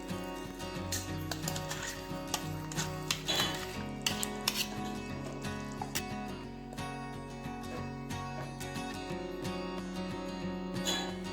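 Ground masala paste is sautéed in a kadhai for a Karjat-style shipi aamti, with repeated metallic clinks and scrapes of a spoon against the pan over a continuous low background; no talking.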